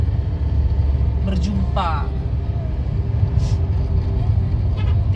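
Trucks and buses pass at night on a road in Aceh, heard from inside a moving vehicle. A constant loud low road rumble continues while people talk.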